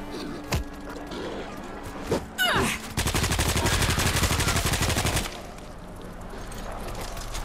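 Sustained automatic machine gun fire in the zombie shooter World War Z, Moscow level, a rapid, even burst of loud shots lasting about two seconds after a few scattered impacts, then cutting off to low ambient noise.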